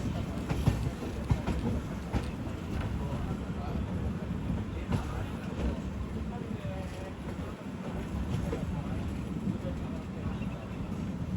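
A passenger train travelling from Kadapa toward Arunachalam rumbles along steadily, heard from a rear coach as a continuous loud roar with faint rattles and clicks, and voices murmur faintly underneath.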